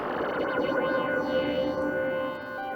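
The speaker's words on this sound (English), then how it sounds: "the kind of squelching type effects that you're hearing" Squelching, distorted synth effects from a Moog Subharmonicon patched with a Moog Spectravox, with sweeping filter tones and warbling echoes over a steady droning bed, loud and continuous.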